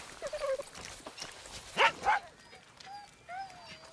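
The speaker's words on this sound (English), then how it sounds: "Good dog. Good dog." A dog in the video game Far Cry 6 gives a few short, soft barks and yips in scattered bursts against a quiet background, with brief whimpering tones between them.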